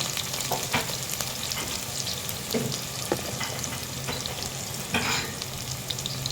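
Onions sizzle in hot oil in a pan, a steady dense frying hiss with occasional stirring scrapes and pops, close and continuous.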